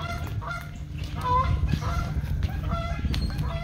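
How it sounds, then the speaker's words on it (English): Geese on an island honk repeatedly in overlapping calls, fairly close and loud over a low steady background rumble. "I'm a little worried about these geese."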